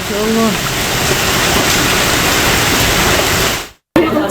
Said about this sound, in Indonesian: es batunya juga lumayan berisik ya karena nimpang-nimpang atap gitu. Dia lumayan berisik juga suara benda jatuh gitu